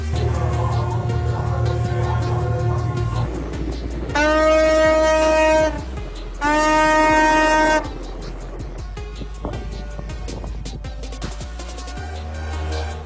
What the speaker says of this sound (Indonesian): Suara klakson kapal bersautan mewarnai keberhasilan pembebasan kapal Ever Given di Kanal Terusan Suez